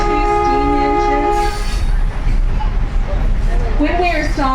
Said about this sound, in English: Here's the 1632 steam engine.